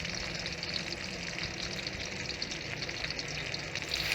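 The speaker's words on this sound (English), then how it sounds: "fry it till your sausages are cooked." Sausages frying in a pan, an even, moderately quiet sizzling hiss that holds steady without pauses.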